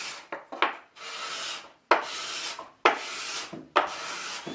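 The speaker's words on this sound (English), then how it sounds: "It's too much work with the scraper alone." Hand scraper drawn across a wooden headboard to strip off varnish: repeated rough, rasping strokes, about five long scrapes after a couple of short ones, close and loud with brief pauses between.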